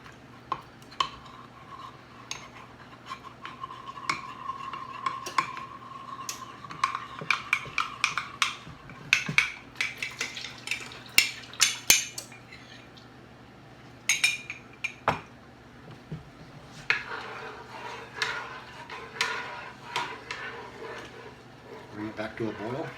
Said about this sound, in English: Mix that up. So I'll dissolve all that cornstarch.